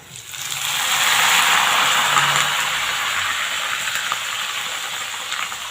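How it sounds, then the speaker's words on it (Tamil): Curry leaves, garlic and whole shallots go into hot oil and burst into a loud, dense sizzle that swells within a second and then holds steady with fine crackling, close up. "கருவேப்பில பூண்டு போட்டிருக்கேன் சின்ன வெங்காயம் முழுசாக வச்சுருக்கேன் ஒரு பிடி அளவுக்கு போட்டுட்டு நல்லா வதக்கி விட்டுடலாம்"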